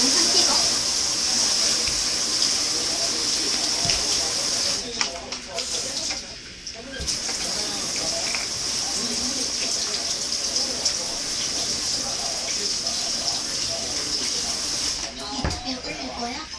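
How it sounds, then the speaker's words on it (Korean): Running water gushes in a steady hiss, close and continuous, with a brief dip midway and faint voices in the background. "물소리."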